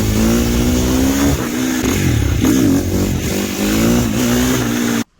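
KTM 350 SXF four-stroke dirt bike doing wheelies, its engine loud and near, revving up and down in repeated surges with throttle blips and a sudden cut at the end.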